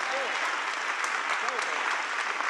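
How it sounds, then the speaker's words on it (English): A crowd at a political rally in Charlotte gives a round of applause, a loud continuous sheet of clapping mixed with scattered cheers and voices. "Give him a round of applause."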